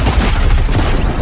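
Shotgun fire in the Fortnite video game near a farmhouse, heard as a dense, loud burst of booming shots and impacts packed tightly over about a second with no pauses.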